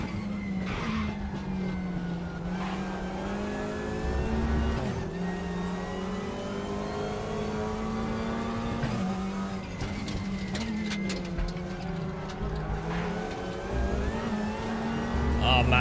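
A front-wheel-drive race car in RaceRoom drones steadily at high revs, its engine pitch rising and falling through gear shifts and corners, with tire squeal and other cars nearby while someone talks over it.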